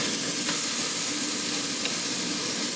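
Marinated steaks going into an air fryer basket give a steady close hiss and sizzle with a couple of faint clinks, no talking.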